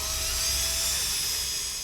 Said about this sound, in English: The drill is hooked to an original distributor, so it's simulating it's in a car and spinning around.